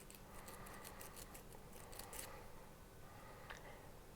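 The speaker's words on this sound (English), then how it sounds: "These Joyce Chen scissors will cut very straight." Joyce Chen scissors snip through a strip of FS999 silver clay, making a run of soft, quick cutting clicks close by, very faint and with no voices.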